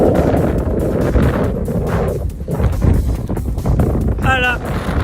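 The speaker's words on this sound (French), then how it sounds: "il y a pas mal de vent" Strong gusty wind roars across a wind farm of five Enercon E82 E2 turbines, a loud, continuous rumble buffeting the microphone, with a short high whine near the end.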